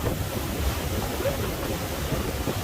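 Wind roars across a Tiara 38 LS motor boat as it passes through a channel under a bridge. A steady, loud broadband rush fills the whole stretch with no talking.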